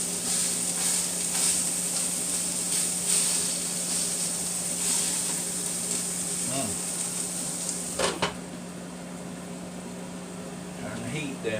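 Breakfast sausage sizzling steadily in a hot pan, a close, constant frying hiss with faint crackles under a background hum, then a brief clatter before the sizzle continues more quietly.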